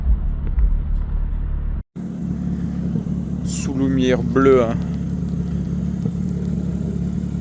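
A BMW M4 CSL drives through Paris at night with a loud, steady engine drone and a brief cut in the sound. Someone speaks over it in French and another short voice follows.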